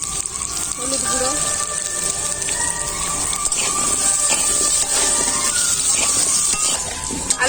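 Potato pieces fry in hot oil in a pan, giving a steady, loud broadband sizzle and crackle that runs through the whole stretch, with faint tonal background sounds and occasional small clinks over it.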